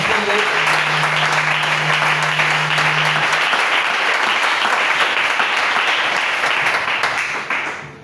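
A church congregation applauds loudly and steadily to acclaim the Lord, dense clapping filling the room for several seconds with a sustained tone briefly underneath before tapering at the end.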